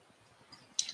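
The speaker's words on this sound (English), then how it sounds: "Mouse click." Faint quiet background, then a single sharp computer mouse click near the end.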